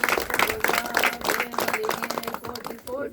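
An audience at a housewarming function in a village claps together in a brisk, continuous patter of many hands, fairly close, with a voice speaking over the applause.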